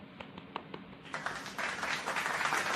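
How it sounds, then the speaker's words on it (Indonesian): A classroom group gives applause, starting with a few sparse, separate claps and swelling after a second into a fuller, steady patter of many hands. "Kita beri aplaus juga untuk kelompok 2"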